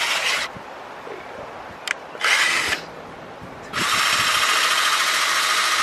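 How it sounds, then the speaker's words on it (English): A cheap power drill whirs in three bursts outdoors on grass, a short one, a brief second, then a long steady run, close and loud with quiet gaps between. "this is a cheap drill"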